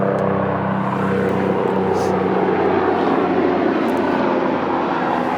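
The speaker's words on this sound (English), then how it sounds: "There's a helicopter." A helicopter flies overhead, sending out a loud, continuous engine and rotor drone that holds steady for several seconds with no clear voice on top.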